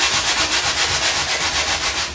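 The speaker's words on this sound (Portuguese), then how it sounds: "eu vou lixando até tirar esse excedente de material" Sandpaper rubbing back and forth over a kiteboard blank to remove excess material, producing a steady, close, rhythmic scratchy hiss with regular strokes and no talking.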